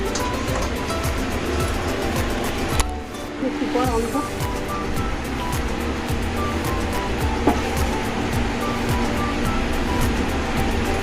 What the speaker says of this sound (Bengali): আমি এবারে ভাজি দেবো